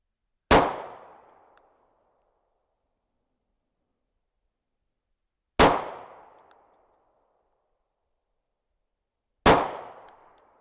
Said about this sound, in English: I'm going to do 3 shots on the number 1.